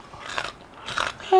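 Kencur, an aromatic ginger root, is being chewed close to the mic in a couple of crunchy bites, with faint talk underneath.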